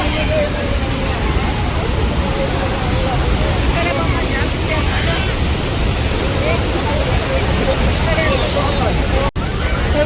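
A stream near a temple waterfall in Chikkamagaluru, a constant loud broadband rush of flowing water with faint voices mixed in.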